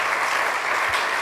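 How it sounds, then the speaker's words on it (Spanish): A short burst of audience applause, an even wash of clapping filling the whole moment with no voices over it. "gran aplauso"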